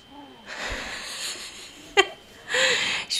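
At a yarn show, a person sniffs a skein of blue wool in two drawn-out, breathy inhales, close to the listener, with a short sharp sound and faint vocal murmurs between them.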